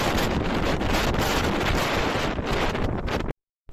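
Strong wind buffeting the microphone on the open Ambanad hills in Kollam, Kerala, a loud continuous broadband roar that holds steady for over three seconds and then cuts off abruptly.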